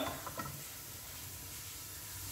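Whole spices and garam masala with dried red chillies frying in oil for chicken achari biryani give a faint, steady sizzle with a few soft stirring scrapes at the start, no voices.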